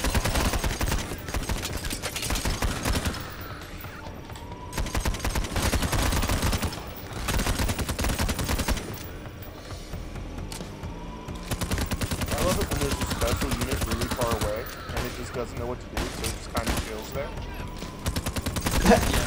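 MP5 submachine gun fire in the shooter game Payday The Heist, on the Slaughterhouse heist, in dense repeated bursts that go on almost nonstop, loud and busy, along with other game noise.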